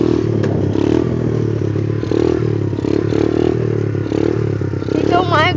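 A motorcycle revs hard and steadily while held up on its back wheel in a wheelie, a loud, close, continuous engine drone with a voice speaking over it.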